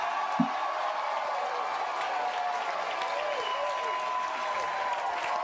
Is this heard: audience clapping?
yes